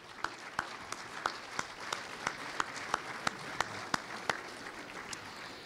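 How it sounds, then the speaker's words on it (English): Conference audience at an agricultural credit event applauding, a moderate crowd of steady clapping with individual sharp hand claps standing out in a fairly regular rhythm throughout. "How about a round of applause?"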